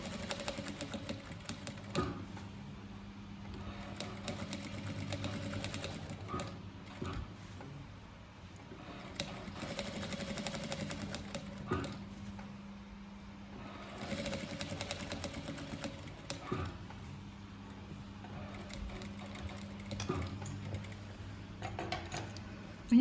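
A sewing machine stitches decorative rows on a patchwork ethnic bag in short repeated runs, its rapid mechanical whir starting and stopping between pauses, quiet and close.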